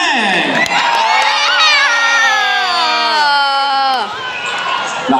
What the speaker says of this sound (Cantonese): 俾啲尖叫聲。